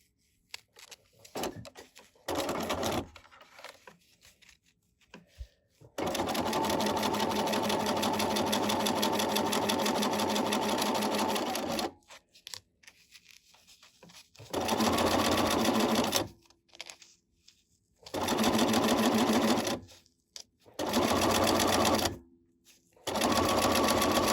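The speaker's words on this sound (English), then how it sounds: "So I'm going to turn it over and sew from the back." A sewing machine stitches felt in several bursts, a steady close mechanical whirring for about six seconds and then shorter runs, separated by quiet pauses with faint handling noises.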